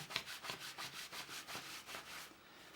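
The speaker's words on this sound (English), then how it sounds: "it's just literally rubbing it in like so" Fjallraven Greenland wax being rubbed into a jacket fabric held over a knee, a quiet, rhythmic scrubbing with about ten short rasping strokes close up, no talking.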